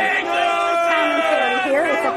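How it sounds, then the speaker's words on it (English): A crowd of Trump supporters chants loudly and steadily at an outdoor political gathering, with many raised voices blending into one continuous, rhythmic roar that fills the whole moment. "the crowd behind us, Trump supporters, started chanting 6-3"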